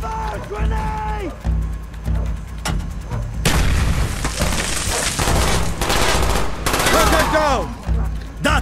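Rapid gunfire and a heavy grenade blast in the video game Call of Duty Black Ops ring out loud and close, with shouting voices and combat noise layered throughout.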